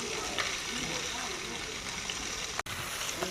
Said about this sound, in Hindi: चिकन का कलर चेंज होने तक भून लेंगे।